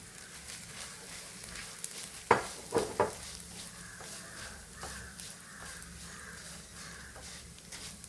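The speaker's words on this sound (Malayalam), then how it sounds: "അവൽ നെയ്ക്കകത്തിട്ടൊന്ന് മൂപ്പിക്കാം." Flattened rice (aval) roasts in ghee with a soft, steady sizzle, broken by a few sharp knocks and scrapes of a spoon against the pan, while a crow caws faintly in the background.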